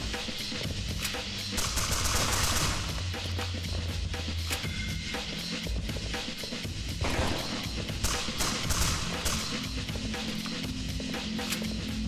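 Rapid bursts of gunfire from the video game Parkside: Decayed Soul Manipulation, dense and sustained over a steady background of game noise with no talking.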